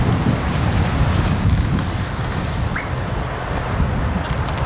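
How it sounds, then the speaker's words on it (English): Wind gusts across an outdoor disc golf course, a steady broadband roar buffeting the microphone, with faint distant sounds and no speech. "It's even windier on this hole"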